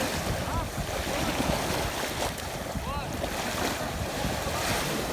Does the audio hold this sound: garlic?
no